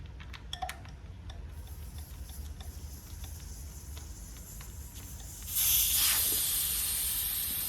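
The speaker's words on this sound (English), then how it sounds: "release all the air from this tube" Air hissing from the valve of a ZUGO bike's rear inner tube as it deflates: a soft steady hiss with faint ticks, swelling into a louder, brighter rush of escaping air near the end.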